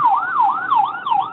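An ambulance siren wails in a steady rising and falling sweep, fairly clear and unbroken, with no talking over it.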